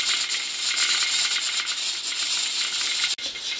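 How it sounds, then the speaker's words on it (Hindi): Closed pressure cooker on a gas flame, cooking Peshawari namkeen gosht, venting steam in a loud, steady hiss with a fine rattling edge that cuts off abruptly near the end. "प्रेशर कुकर को बंद करके मैंने हाई फ्लेम पर रखा था, अब गैस चलना शुरू हो गया।"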